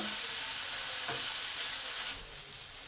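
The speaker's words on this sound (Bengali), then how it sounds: "এই ধনে জিরে আদা বাটাটা ভালো করে আলুর সাথে কষে নেবো" Potatoes frying with a paste of ground coriander, cumin and ginger, giving a steady, close sizzle and hiss with no voices, for a Bengali rohu fish curry with potato and cauliflower.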